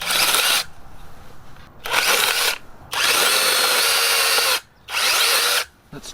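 IMOUM 21V brushless electric 6-inch mini chainsaw cutting wood, a high whining motor rev with gritty chain rasp in four bursts of varying length separated by brief quiet gaps, close and loud.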